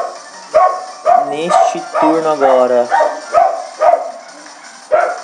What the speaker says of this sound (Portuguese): E meu cachorro trolando.